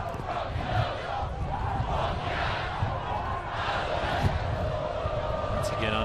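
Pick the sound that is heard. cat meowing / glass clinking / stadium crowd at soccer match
stadium crowd at soccer match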